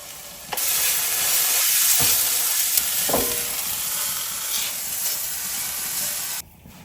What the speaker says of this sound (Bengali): আমি তেলের মধ্যে জাস্ট হালকা একটু নেড়ে চেড়ে নিব